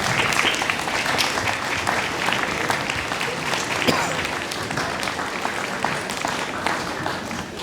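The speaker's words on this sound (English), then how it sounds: "we got a big round of applause for our 5th grade" A school audience at a Memorial Day assembly breaks into a big round of applause for the fifth grade, dense sustained clapping filling the room.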